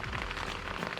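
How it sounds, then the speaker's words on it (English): Rain drums steadily on a tent at a beach campsite in Eleuthera, Bahamas, at night, a dense close patter filling the whole moment. "The rain has come down on me."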